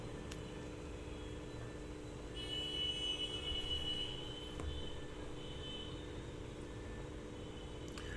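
Distant street traffic drones on for several seconds, swelling briefly as a vehicle passes, with faint clicks and a high whine over the steady roadway rumble.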